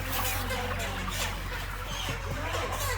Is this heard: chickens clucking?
yes